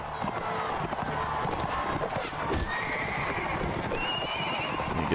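Horses gallop in the video game Mount & Blade: Warband, a busy clatter of hooves with neighing and whinnies mixed into battle noise, loud and continuous.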